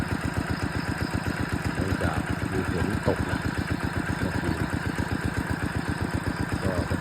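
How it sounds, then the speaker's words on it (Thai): A steady, rapidly thumping engine-driven water pump, pumping water out of a corn field, runs continuously, droning at a constant pace, with someone talking briefly over it. "สูบน้ำออกจากป่าข้าวโพด"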